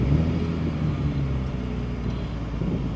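The 2023 Toyota Supra with manual gearbox runs with a low, steady engine rumble, a continuous moderate drone with no other sounds over it.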